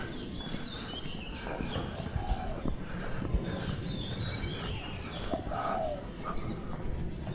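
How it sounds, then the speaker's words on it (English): Several birds chirp and call intermittently in an open outdoor setting on a hiking trail on Lamma Island, Hong Kong, over a steady background bed of wind and distant rustling. "Hear a bird? A lot of those."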